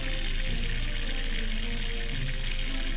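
A faucet in the Christmas video game Watch Over Christmas runs in a steady, hissing gush of water, loud and continuous for a few seconds with no voices.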